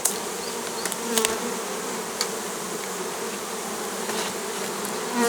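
Honeybees swarm around a hive box newly set in place of a split frameless log colony, a dense, steady buzzing close at hand with a few sharper passes of individual bees and no voices.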